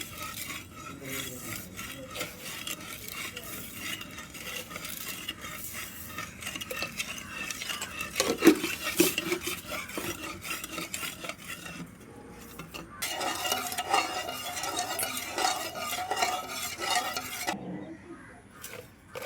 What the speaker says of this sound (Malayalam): പിടിക്കാതെ നമുക്ക് ഇളക്കി കൊടുക്കാം ഗോതമ്പ് മിൽക്കിലേക്ക് കുറച്ച് പഞ്ചസാര ഇട്ട് കൊടുക്കാം